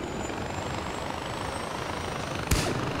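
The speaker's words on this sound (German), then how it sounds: "Da oben wäre ein Gyrocopter, so wie ich das gerade sehe." Gyrocopter engine in the video game Far Cry 4, a steady loud rotor-and-motor drone with a thin whine above it and a short sharp burst near the end.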